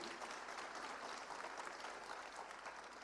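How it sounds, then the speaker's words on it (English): Audience applause at a Women's Day event with a woman army officer: dense, steady clapping from a large crowd fills the whole stretch at an even level, with no voices over it. "We can clap louder than that, can't we?"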